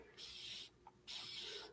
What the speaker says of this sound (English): I'm going to wet it with this little spray bottle